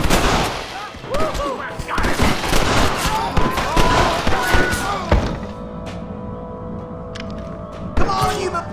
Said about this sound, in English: Let's shoot the hell out of these cowards!